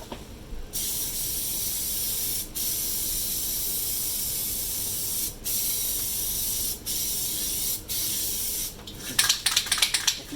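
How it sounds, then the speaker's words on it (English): A spray gun lays down white Plasti Dip rubberized coating on Jeep parts in long continuous hissing bursts separated by short pauses, close and steady, with a sputtering, clicking end as the spray breaks up. "It sprays very strange. I mean, it's a rubberized coating, and it's a little blotchy coming out of the gun."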